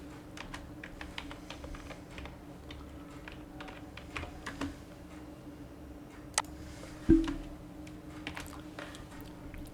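Typing on a computer keyboard, with steady light key clicks close by and one sharper tap standing out; no talk during the typing.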